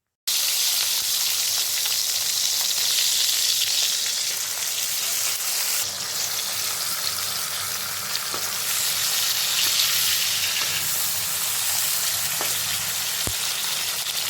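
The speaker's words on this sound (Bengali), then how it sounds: "আর গরম তেলের মধ্যে আমি লাউ পাতার বড়াগুলোকে এভাবে ছেড়ে দিচ্ছি।" Bottle gourd leaf fritters fry in hot mustard oil in a wok over a very low gas flame, three at once, giving a close, loud, continuous sizzle and hiss with occasional small pops and no talk.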